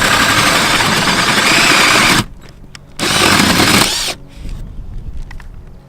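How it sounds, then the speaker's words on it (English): A power drill with a hole saw whines loudly cutting through a roof, stops briefly, runs again in a second burst, then falls to quieter scraping and handling sounds. "So now we're going to take our hole saw"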